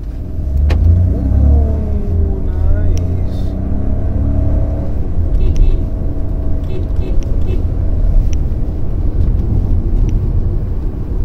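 A Skoda Kushaq 1.0 petrol automatic SUV engine revs hard and accelerates, its loud, close roar climbing in pitch and then settling into a heavy, rumbling drive.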